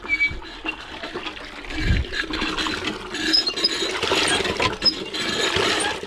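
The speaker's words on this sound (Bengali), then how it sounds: "এখন প্লাস্টারে জল দিচ্ছি" Water poured onto freshly laid plaster, with an irregular splashing, trickling wash and some mechanical clatter, close by and fairly constant.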